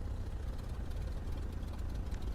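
A Cessna 152 engine idles during an idle stall test, a low, steady rumble heard from inside the cockpit, faint and even without any pause or sputter.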